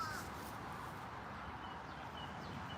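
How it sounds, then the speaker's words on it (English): A crow caws overhead outdoors, a faint, brief call near the start over a steady low background hum, with no talking. "I got a crow right above my head"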